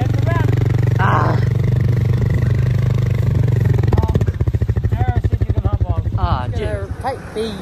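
A motorbike carrying two dogs idles with a steady low rumble, then revs into a throbbing pulse that falls away toward the end, with voices over it.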